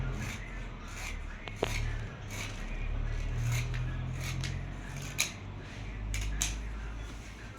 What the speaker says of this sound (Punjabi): ਫਿਰ ਆਪਾਂ ਕੱਟਾਂਗੇ ਗੁੰਜਾਂ ਦੀ ਕਟਾਈ ਕਰਾਂਗੇ